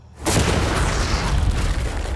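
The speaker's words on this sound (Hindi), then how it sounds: "वो धमाका टैंक वाले से बहुत बड़ा होगा।" A huge explosion blowing up containers, a sudden deep boom that erupts after a moment of quiet and rolls on as a loud, sustained roar.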